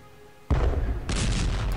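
A single heavy explosion from a mine detonation in the Strategic Command World War I strategy game, a sudden loud boom that swells again moments later and rumbles on.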